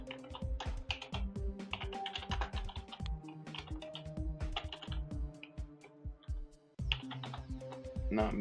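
Fast, steady clicking of a computer keyboard, heard close and fairly clear, with brief pauses between bursts of keystrokes and game music playing along beneath.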